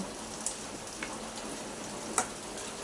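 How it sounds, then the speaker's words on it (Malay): Rain falling outside a home kitchen, a steady soft hiss with a few faint distinct drops tapping now and then. "Kat luar tu hujan"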